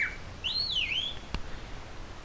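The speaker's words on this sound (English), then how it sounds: "ooh, blackbird." A blackbird sings outdoors at a campsite by an abandoned mine, a single clear, fluting phrase that rises and falls, fairly close but soft against a quiet background, followed by a brief faint click.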